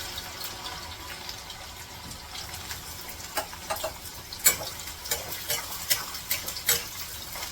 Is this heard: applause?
no